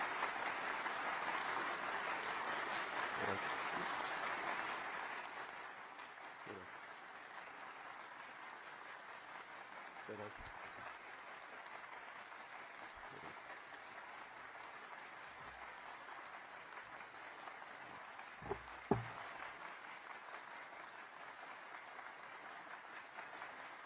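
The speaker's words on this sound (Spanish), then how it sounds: "El aplauso es largo, ¿eh?" Long applause from a legislative assembly after the president's speech: fuller clapping at first, then a quieter, distant, continuing wash of clapping with a few louder isolated claps.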